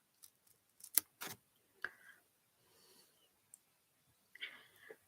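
Scissors snip through paper while an origami heart is cut out, several short, close, quiet cuts in an irregular rhythm with pauses and soft rustling between them.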